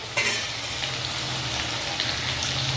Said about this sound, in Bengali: 2টো মিডিয়াম সাইজের আলু খোসা ছাড়িয়ে ডুমো করে কাটা আমি ভেজে নেব